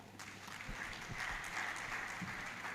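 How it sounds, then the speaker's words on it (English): An audience at a project management event claps continuously, a broad rustling wash of many hands held at an even level, somewhat distant, with a few soft low thumps underneath and no voices. "A round of applause for them."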